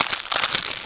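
Packaging crinkles and rustles as spinnerbait fishing lures are unwrapped, a brief burst of close, bright plastic crumpling noises.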